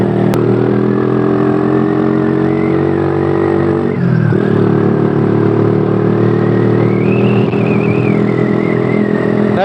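An engine hums loud and close from a Honda CB motorcycle, a Honda Tiger custom-built in 2014, as it is ridden up a long sunny hill. The steady drone dips briefly for a gear change, then pulls on with a rising whine.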